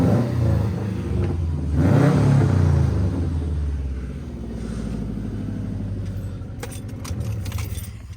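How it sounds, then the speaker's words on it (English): Car engine given a cold rev in a garage: a deep idle rumble swells into a loud rev around the two-second mark, then settles back to a steady idle, close and unbroken by speech, with light metallic jingles near the end. "Give it a little cold rev"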